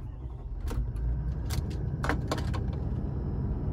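A 2018 Toyota Land Cruiser 200 series VX with its V8 engine being started by keyless push-button, a low steady rumble close by with a few short clicks and rattles layered over the idle.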